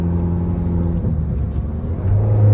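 A 2012 Mini Cooper Coupe John Cooper Works engine pulls hard through upshifts, a steady close rumble and whir that dips at a gear change and swells again as it accelerates, with no talking over it.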